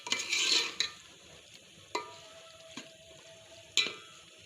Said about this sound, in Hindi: हम इन मसालों के साथ कीमे को भून लेंगे अच्छे से।